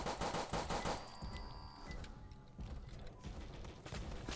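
Gunfire in the Roblox horror game about a man-eating train: rapid mechanical bursts of shots and clacks, continuous and fairly loud, mixed with a high game tone and background rumble.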